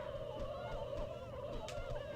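Turkeys gobble in an N64 multicart snowball-throwing game, with a steady run of warbling synthesized gobbles over a constant electronic hum and no talk.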